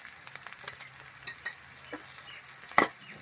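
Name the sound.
bitter gourd pieces frying in spices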